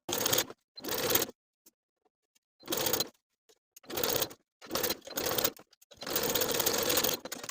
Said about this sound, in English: slowly and carefully sew these curved seams with a 3/8 inch seam allowance